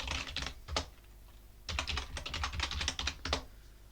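Close, crisp keystrokes on a computer keyboard as a Linux terminal command is typed: a short burst, a pause, then a longer rapid run of clicks ending in a firmer tap, with no voices.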